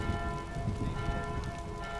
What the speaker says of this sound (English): Now let's see how quickly the bells stop.